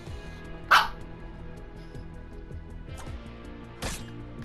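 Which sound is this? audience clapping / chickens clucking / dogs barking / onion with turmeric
dogs barking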